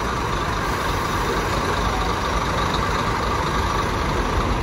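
Scania K360iB coach bus of the Planalto company running at Porto Alegre bus station, a steady loud low engine drone with hissing broadband noise, no pauses.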